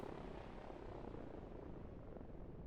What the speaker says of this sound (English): These helicopters need to move away.